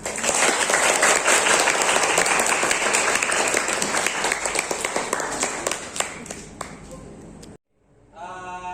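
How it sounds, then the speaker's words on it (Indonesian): Classroom of vocational high school students clapping together, a dense burst of applause that gradually thins and ends abruptly, followed by a voice speaking. "Tepuk tangan"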